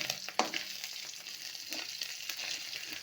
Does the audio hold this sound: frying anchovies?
yes